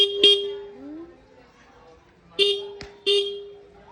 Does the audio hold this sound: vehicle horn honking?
yes